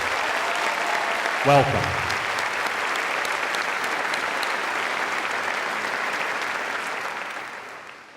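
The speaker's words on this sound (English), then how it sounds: "Let's give our new teachers and support teachers a round of applause." Audience applause for new teachers and support teachers at a school staff convocation fills the room, steady and loud for several seconds before tapering off, with a brief spoken welcome near the start.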